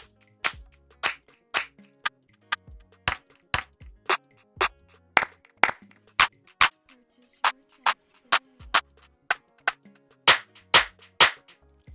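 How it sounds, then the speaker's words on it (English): Clap samples from an Afrobeat and Amapiano sample pack play one after another, sharp dry hits spaced about half a second apart in a steady sequence, loud and isolated with no talk. "So now let's move on to the claps."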